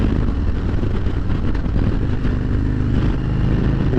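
A 2023 Harley-Davidson Road Glide Special cruises at about 40 mph, its exhaust giving a steady, deep, loud rumble with low-end throb and slight clatter, heard continuously with no voices.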